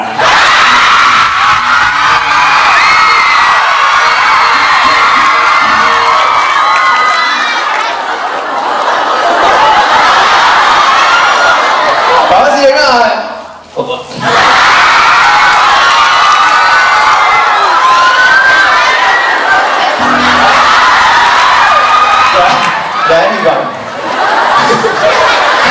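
Loud crowd at a charity birthday celebration cheering, screaming and shouting continuously, with a brief dip midway before the roar resumes; children's shouts and laughter mixed in.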